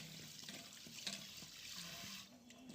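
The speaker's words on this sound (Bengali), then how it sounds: "ঠান্ডা জল দিয়ে বেশ কয়েকবার ভালো করে প্রথমে ধুয়ে নিচ্ছি।" Sea fish are washed several times under cold running water, with a steady faint splash and trickle of tap water and light handling noises, quiet and with no talking.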